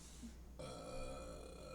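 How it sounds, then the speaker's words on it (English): A single long, drawn-out burp rumbles close to the microphone. It sounds steady and sustained and stands alone over faint background hiss. "there's a burp for you"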